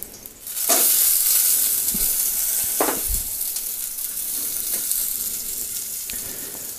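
Small onions sizzle in a frying pan, a steady loud hiss with occasional clinks and scrapes of stirring, close and without talk.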